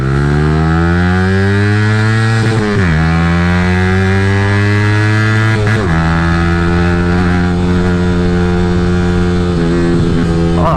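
A Yamaha R15 V3 motorcycle engine revs hard toward 16,000 RPM, climbing in pitch, briefly dropping twice as it shifts, then pulling steadily higher again in third gear; loud, close, continuous roar.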